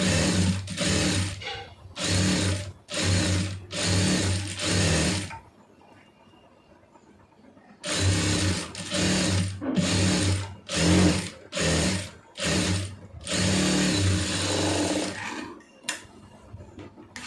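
A sewing machine stitches the shoulder seam of a lined blouse. Loud close bursts of rapid mechanical chatter come in short runs with brief gaps, then a long pause, and then more runs.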